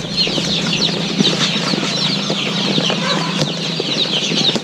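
Several Arab chickens inside a delivery box, clucking and squawking continuously and close by, with occasional rustling and wing flaps.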